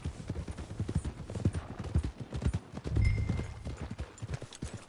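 Horse hooves clip-clop steadily on the ground in the Red Dead Redemption II video game, a repeated rhythmic trot heard close and clear with occasional game sounds behind it.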